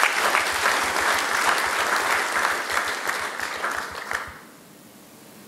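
A crowd at the ICPAK annual general meeting applauds in a dense, steady burst of clapping that carries for about four seconds, then fades quickly to quiet room tone.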